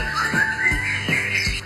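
A songbird sings a bright, warbling phrase close by, with a few soft rhythmic thumps underneath.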